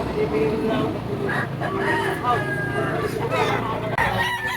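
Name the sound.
rooster (bull stag, gamefowl) crowing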